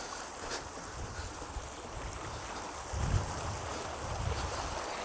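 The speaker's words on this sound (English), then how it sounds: "it just shows you the sort of flow of water coming through the farm" Floodwater on a rain-soaked farm gushes out of a pipe outlet beside an earth bund, a steady rushing, splashing flow close by with a couple of louder surges toward the end.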